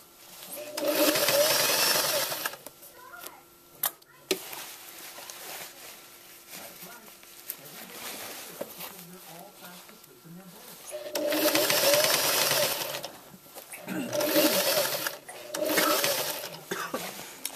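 A sewing machine stitches a layered circle skirt onto its elastic waistband in two long buzzing runs with a quieter pause between them, close and steady, with a voice talking over parts of it.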